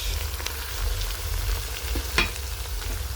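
Spinach, kale and dodo fry together in a pot, giving a continuous crackling sizzle up close, with a few sharper pops and stirring sounds scattered through it.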